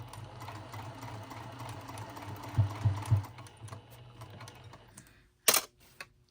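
Sewing machine stitching in the seam allowance, back-stitched while fitting an in-the-hoop zipper placket to a garment: a steady, fairly quiet mechanical whir with a few louder bursts midway, then a pause and a sharp clatter near the end.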